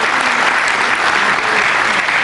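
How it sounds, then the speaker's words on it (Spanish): Brief, full round of applause from parents at a school district parent meeting, welcoming the volunteers who carry the microphone. Dense clapping, close and even, lasting about two seconds with no speech. "Let's give them a round of applause."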